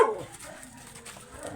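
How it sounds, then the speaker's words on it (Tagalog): A small dog barks faintly a few times at a distance, with a sharp yip at the start and a low room hum underneath. "May aso ah."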